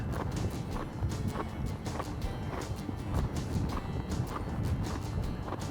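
Steady, rhythmic hoofbeats of a reining horse loping slowly around an arena over soft ground, a regular muffled thudding that continues throughout.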